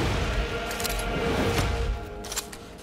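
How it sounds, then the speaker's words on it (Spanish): Gunfire in the video game Resident Evil Village, a few sharp shots over a busy background with no voices. "Un montón de tiros."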